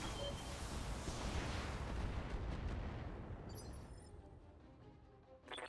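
Mech weapons fire in the Battletech video game, a dense, roaring barrage of booms and blasts that gradually fades away, with brief bursts and clicks near the end.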